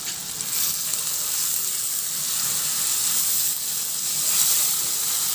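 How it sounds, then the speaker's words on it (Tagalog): Tomatoes sauté and are stirred in a pan, seasoned with salt and pepper while cooking a chicken feet dish, giving a steady, close broadband sizzle with faint scraping swells of stirring throughout, no voices. "Ihalo lang din hanggang sa maluto yung kamatis"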